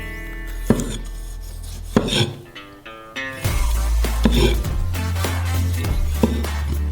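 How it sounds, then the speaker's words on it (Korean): Kitchen knife cutting a tomato for a McDonald's-style mini pizza, trimming off the drier outer flesh: sharp knocks of blade on cutting board, close and distinct, scattered at an irregular pace with soft slicing scrapes between strikes. "미니 피자에 속이 너무 묽지 않도록 외부에 수분이 적은 부분만 잘라내요"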